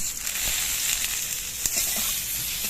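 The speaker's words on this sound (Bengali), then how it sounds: "এবার এর মধ্যে দিয়ে দিচ্ছি আমি হলুদের গুঁড়ো, পরিমাণ মতো নুন আর চেরা কাঁচা লঙ্কা।" Fried taro sizzles steadily in hot oil as turmeric, salt and slit green chillies go in, a continuous close hiss with faint scraping.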